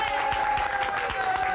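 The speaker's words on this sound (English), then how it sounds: "And if we may now, ladies and gentlemen, by way of applause," Studio audience applause for wrestler Tony Atlas on a talk show, a loud dense burst of clapping filling the short moment.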